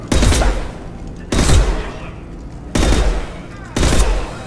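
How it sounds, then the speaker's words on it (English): Gunfire in the Mass Effect 2 Legendary Edition game, with Blue Suns mercenaries and Vorcha shooting, comes as four loud, close bursts of rapid shots separated by brief pauses. "Blue Suns and Vorcha shooting anything that moves."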